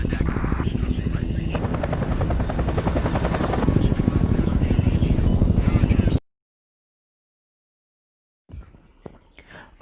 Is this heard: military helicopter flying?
yes